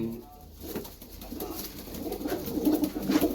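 Pigeons coo softly and repeatedly in a village, growing a little louder toward the end, with light background noise and no speech.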